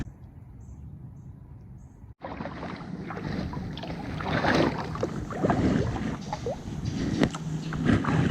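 A kayak is paddled on a river in downtown Knoxville, Tennessee. After a brief quiet start, steady close splashing and dripping strokes carry on, with light wind noise over the microphone.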